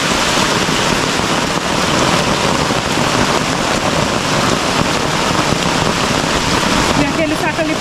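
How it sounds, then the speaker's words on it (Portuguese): Heavy rain pours steadily and loudly over an outdoor camp shelter, a dense, continuous wash of drops drumming on surfaces throughout with no break. "Gente, tá chovendo muito e o rosto tá lá na chuva, todinho molhado."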